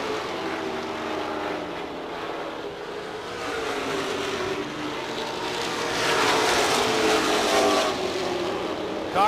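Race cars roar around a dirt track at Seven Rivers Racing, a loud, continuous engine drone that swells as cars pass close by near the end.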